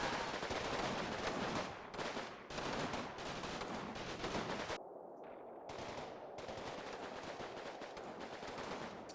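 Rapid point-blank gunfire against Volkssturm troops in Combat Mission Final Blitzkrieg, dense machine-gun and rifle bursts rattling almost nonstop with a brief lull midway.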